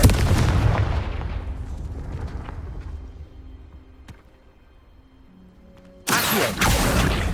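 Confringo explosive spell blast in the Hogwarts Legacy video game: a loud, close booming explosion that rumbles and decays over several seconds, followed by another sharp, loud burst near the end.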